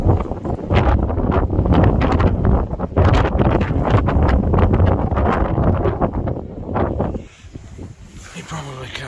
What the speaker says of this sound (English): If you can hear the wind, if I stand up out the van